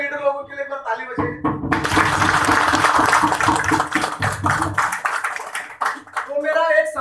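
A crowd at an event applauds organisers and leaders, a dense wash of clapping lasting several seconds, with a voice speaking before and after it.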